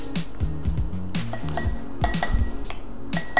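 Mirin sauce being whisked in a bowl: rapid light clinks and taps of a utensil against the bowl, rhythmic and close, fairly quiet.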